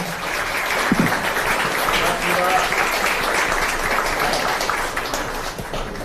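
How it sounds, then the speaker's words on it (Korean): A crowd at a youth meeting with a party leader in Busan gives a big round of applause, a loud, steady roar of clapping filling the room for several seconds with a faint voice beneath. "큰 박수 한번 부탁드리겠습니다"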